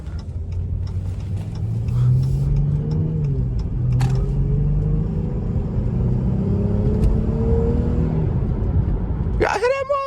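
A Chrysler 300 on a late-night drive, not in sport mode, roars loudly as its engine revs and climbs in pitch while accelerating, with a constant close rumble and a short burst of noise near the end.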